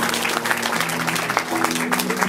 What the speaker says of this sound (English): a big round of applause for Tarzan